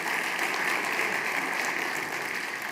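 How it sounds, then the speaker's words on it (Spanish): An audience at a formal ceremony applauds warmly, a dense, steady wash of many hands clapping with no break, moderately loud and even throughout. "Saludamos también a Jorge Ignacio Prieto, presidente del Comité de Especialidades, con este aplauso cariñoso también."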